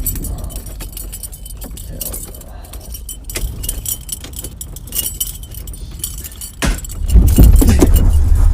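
Keys jangle up close in bright, irregular bursts while an ambulance's engine is switched off, and a low rumble swells near the end.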